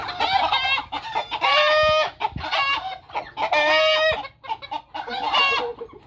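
Rhode Island chickens, a rooster and two hens, cluck loudly and close in repeated bursts of strained, rising calls with short gaps between them, and no talking.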